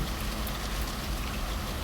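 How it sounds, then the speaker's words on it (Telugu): Heavy rain pours down in Hyderabad, a dense, steady hiss of drops striking surfaces that fills the whole moment without letup. "ఈరోజు ఈ వర్షం వల్ల చాలా ఇబ్బంది పడుతుంది"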